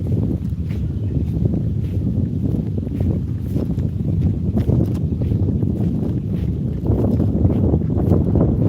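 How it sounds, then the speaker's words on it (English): Strong gusty wind roars loudly and continuously outdoors on a fishing dock, a dense low rumble of buffeting against the microphone filling the whole stretch with no talk. "this wind is horrible"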